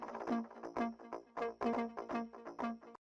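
Layered synth bass stabs in a steady rhythmic pattern, short punchy hits repeating quietly for a few seconds, then cutting to silence.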